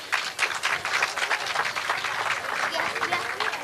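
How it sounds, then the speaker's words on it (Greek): An audience at a village association's nativity reenactment in Antimacheia claps in steady, fairly loud applause that carries on to the end. "Θα ήθελα να τους δώσετε ένα χειροκρότημα."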